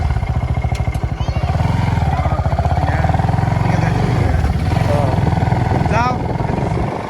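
A motorcycle engine putters steadily at close range while being ridden over a road left rough and broken by heavy rain, with someone talking over the engine noise.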